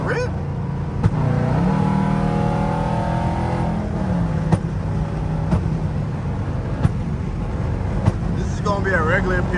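A 5.7-litre Jeep cruises on a rainy freeway, its engine and tyre roar a steady loud drone with occasional sharp knocks, while people talk over it inside the cabin.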